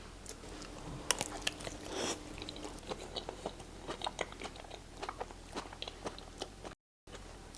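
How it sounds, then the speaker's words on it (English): Crisp, repeated crunching bites into a hard white chocolate coating on a fruit-shaped mousse dessert, close up, with irregular sharp cracks and chewing sounds and no talking. "the crack of the white chocolate coating"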